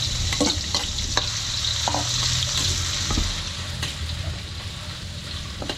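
Garlic frying in a pan at a restaurant for buro: a steady, close sizzle with scraping stir strokes and utensil taps throughout.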